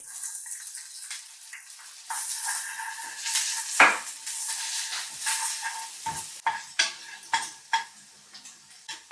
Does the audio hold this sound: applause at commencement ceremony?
no